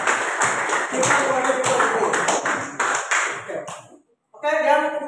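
Students in a classroom clap their hands together, a dense burst of claps running for about four seconds before a short pause, then a voice begins speaking.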